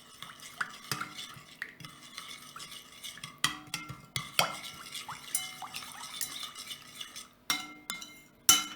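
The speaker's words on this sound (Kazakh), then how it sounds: "Араластырамыз." Melted butter and eggs stirred by hand in a bowl: close, repeated utensil scrapes and sharp clinks against the bowl in an uneven rhythm, with wet sloshing and no voices.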